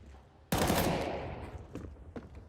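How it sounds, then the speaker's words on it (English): A grenade explodes during a Counter-Strike match, a sudden loud blast that decays over about a second, followed by scattered distant gunfire. "Grenade onto Woozy."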